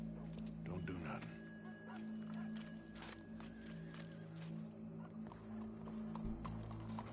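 Horse hooves clip-clopping in Red Dead Redemption 2, a steady rhythmic trot heard close under ongoing game dialogue and background music, with people talking throughout.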